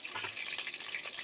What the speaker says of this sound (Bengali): তেলটা আমার গরম হয়ে গেছে। এবার আমি আলুটা ভেজে নেব।